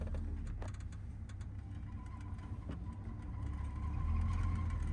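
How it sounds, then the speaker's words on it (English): Car engine running with a loose belt, a low steady idle-like drone with a faint thin whine above it and scattered light ticks, fairly quiet and continuous with no voices. "Need to tighten that belt, it sounds like"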